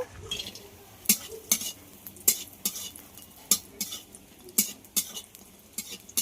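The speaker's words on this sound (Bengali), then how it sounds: "এখানে মটর ডালের বড়ি নিয়েছি, বড়িগুলোকে ভেজে নেব।" Pea lentil dumplings fry in hot mustard oil in a pan with a steady low sizzle, broken by repeated sharp clinks of a utensil stirring against the pan at an uneven rhythm.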